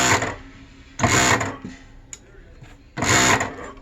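A JUKI DDL-8000A industrial sewing machine runs in three short bursts of fast stitching, loud and close, with quieter mechanical clicks and a brief thump between runs.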